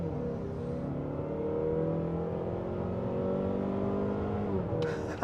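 A Mazda CX-5 with a non-turbo 2.5 litre four-cylinder engine producing 184 horsepower accelerates steadily, its engine note rising in a sustained drone heard from inside the cabin.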